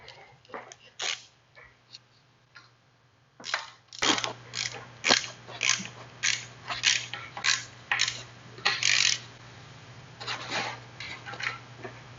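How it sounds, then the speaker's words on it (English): A hand ratchet tightens a MAP sensor on a Pontiac Fiero GT in a garage, giving rapid close clicking bursts in short rhythmic strokes that continue steadily over a low background hum. "then we'll come back with the ratchet"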